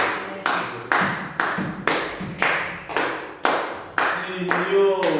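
A church congregation applauds in a run of loud clapping bursts, each rising sharply and then tailing off, with a voice speaking over the end.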